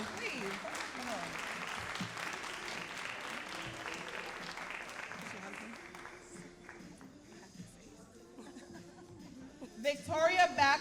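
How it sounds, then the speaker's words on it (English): An audience at the Sankofa Celebration 2026 applauds honorees with sustained clapping and some chatter, which fades midway and then builds again toward the end. "Y'all keep applause, please."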